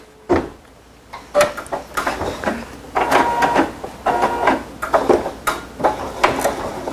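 An embroidery machine stitches a fast triple stitch, giving quick clattering mechanical bursts with short pauses, loud and close, with no talking.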